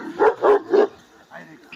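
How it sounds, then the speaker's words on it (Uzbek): Three loud, close barks from dogs being readied for fighting ring out in quick succession, followed by a brief lower vocal sound. "Mana jangga tayyorlanayotgan itlarimiz."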